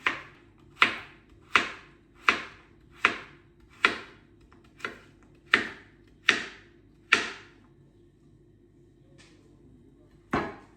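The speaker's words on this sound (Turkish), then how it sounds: "Bunları küçük küçük doğrayacağım" A knife chops quartered zucchini into small pieces on a board, giving about a dozen crisp, evenly spaced cuts in a steady rhythm, close and clear, with a short pause before the last stroke.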